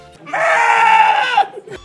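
A loud, sustained bleating cry from a sphinx boss taking damage in Super Mario Land, a single drawn-out bray lasting about a second that ends with a brief wobble.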